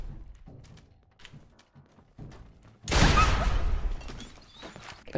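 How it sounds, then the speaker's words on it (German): Scattered soft thuds and taps, then a sudden loud explosive burst in Fallout 4 that rumbles and crackles for a couple of seconds before fading. "Was explodiert denn da alles, sag mal?"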